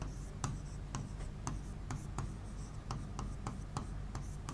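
Chalk or marker writing on a classroom board during a history lesson, quick scratchy strokes and taps in an irregular rhythm, close and clear over a steady background hum, with no talking.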